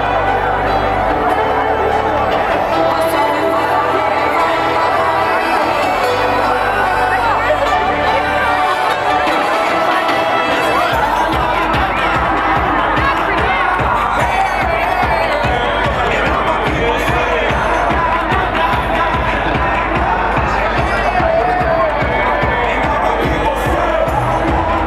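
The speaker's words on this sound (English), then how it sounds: "For those of you who can't identify an event from its screaming crowd, I'll tell you that that was Freedomday in Toronto." A large outdoor Freedomday rally crowd in Toronto roars and cheers continuously, with a rhythmic stomping or drumming beat emerging partway through, loud and close throughout.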